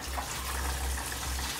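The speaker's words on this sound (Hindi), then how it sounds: "जैसे मैं यहाँ पर नल को ऑन करता हूँ, आप यहाँ पर देख सकते हैं, अभी देखो यहाँ पर पानी आ रहा है" Water runs steadily from a tap into an 8.5 kg semi-automatic washing machine, a continuous close hiss and gush that stays at an even level throughout.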